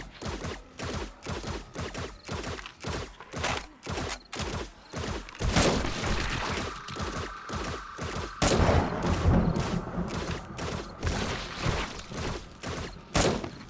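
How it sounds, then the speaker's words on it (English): Zombie cops blowing up at a sniper and dart-trap horde base in 7 Days to Die Alpha 20, heard as a dense, continuous barrage of sharp gunfire cracks, thuds and heavier booms. "as we sit through a whole bunch of cop explosions, you can see there on that one"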